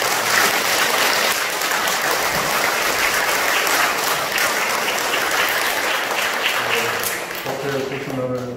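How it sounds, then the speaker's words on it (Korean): Warm, sustained applause from a Buddhist temple congregation gathered in a temple lobby for a Sunday dharma service, steady and dense before easing off near the end, with faint voices and rain-like hiss underneath. "뜨거운 박수 한번 부탁드립니다."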